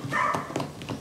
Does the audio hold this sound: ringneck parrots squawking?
no